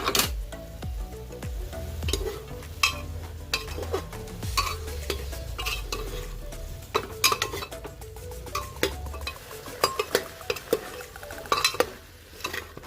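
Chicken stirred in a pressure cooker pot for an Assamese boiled chicken dish, giving repeated scraping and clinking of a utensil against metal with a light sizzle, steady and close, without talk.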